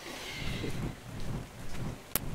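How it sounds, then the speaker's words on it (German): Steady rain in the video game Ark: Survival Evolved patters continuously, with a low rumble underneath and a sharp crack near the end. "Es regnet."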